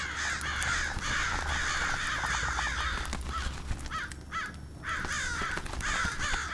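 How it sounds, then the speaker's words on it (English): Several crows caw repeatedly in overlapping harsh calls over a low rumbling background, with a brief lull before the cawing resumes. "now it's time to feed the crows"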